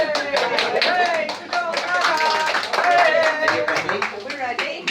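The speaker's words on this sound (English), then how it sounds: "Round of applause." A small crowd applauds at a school's 50-year celebration at St Joseph's in Kirkby Lonsdale, close, lively clapping over a few seconds with cheerful voices mixed in.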